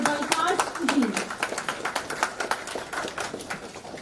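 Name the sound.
audience applause welcoming a guest speaker at a workshop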